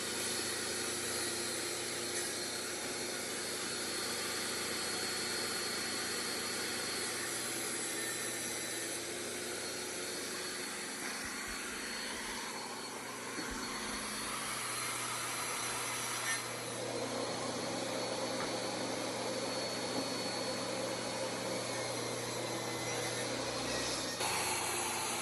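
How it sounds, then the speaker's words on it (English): A table saw cuts a groove a quarter inch deep and a quarter inch wide in wood panels for a changing table and dresser, a steady mechanical whir and grind running continuously and fairly loud throughout, with no talking. "I'll use my table saw to cut a groove 1/2 inch from the bottom"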